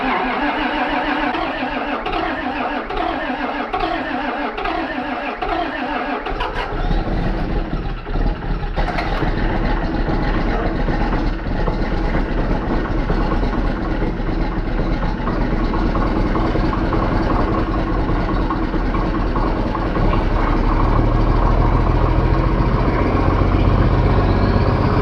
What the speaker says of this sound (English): let's see if the 4430 starts